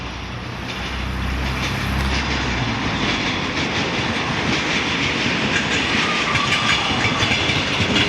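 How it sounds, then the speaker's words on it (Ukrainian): A train rolls past close by, a loud continuous rumble with rhythmic clickety-clack of wheels building after the first second. "Зараз потяг проїде."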